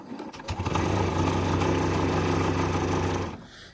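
A sewing machine stitching a gentle curve around a fabric bowl cozy, a close steady mechanical whir starting after a few clicks, running evenly for about three seconds and then stopping.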